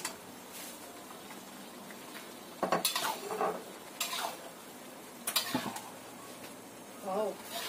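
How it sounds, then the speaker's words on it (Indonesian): Eggplant goes into a pan of spiced sauce with about 100 ml of water and is stirred, giving repeated clinks and scrapes of a utensil against the pan in short bursts, with quiet talk in between. "Kita masukkan terongnya."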